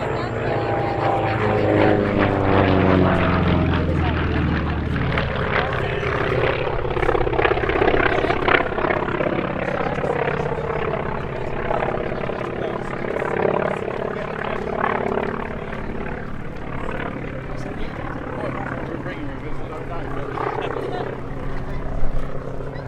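A Grumman FM-2 Wildcat fighter built by General Motors' Eastern Aircraft Division runs its radial piston engine at Duxford, a loud continuous propeller drone with shifting pitch throughout, while someone narrates over it.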